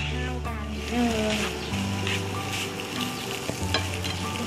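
Steady sizzling and scraping of rice with tuna being stir-fried in a hot pan, with a low hum and a faint voice in the background.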